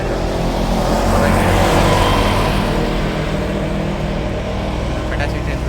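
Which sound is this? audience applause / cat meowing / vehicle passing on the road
vehicle passing on the road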